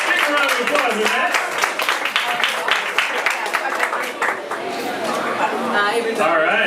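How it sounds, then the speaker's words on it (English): Audience applause at a film festival panel, dense clapping and crowd noise running under a speaking voice, fading slightly before swelling again. "Big round of applause for that"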